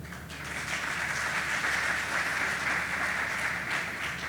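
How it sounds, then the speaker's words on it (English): An audience at a conference fireside chat breaks into a sustained round of applause, many hands clapping in a steady, even wash that holds for several seconds without talk. "A doing- round of applause for Yossi."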